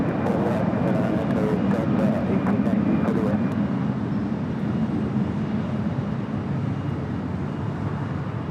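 An airliner taking off at LAX produces a loud, steady broadband jet roar that holds throughout, close and continuous, with a faint voice underneath.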